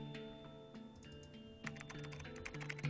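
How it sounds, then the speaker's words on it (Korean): Fingers tap quietly on a computer keyboard in a rapid, irregular string of light clicks, set against faint background music. "나는 멈춰있던 손가락을 움직여 몇 글자를 더 타이핑한 뒤 쪽지를 전송했다."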